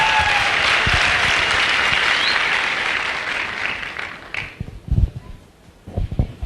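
Loud applause from an audience at a network-marketing success-story event, dense clapping fading out near the end into a few scattered claps and murmurs.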